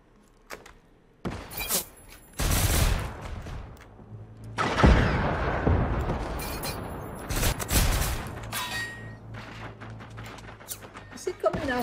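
A robot in the video game Generation Zero fires guns in several loud bursts of rapid shots and impacts, spread across the stretch with quieter gaps between them, while players talk over the action.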